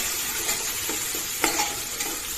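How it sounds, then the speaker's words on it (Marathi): Onion frying in hot oil with curry leaves and bay leaf for a village-style mutton rassa, a steady close sizzle with a few sharp stirring scrapes and crackles throughout, no voices. "आता याच्यात जाईन कांदा टाकून चांगलं परतवून घेऊ।"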